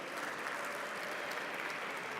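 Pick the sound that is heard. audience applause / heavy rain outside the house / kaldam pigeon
audience applause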